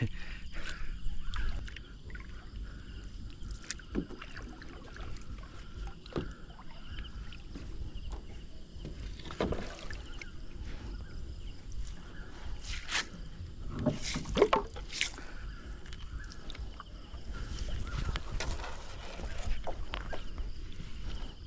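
A lone paddler works a small rowboat while casting a net, with soft, irregular splashes and paddle knocks on the water at close range, set against light wind and background ambience.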